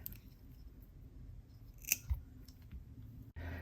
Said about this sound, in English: Let me go ahead and cut a long piece.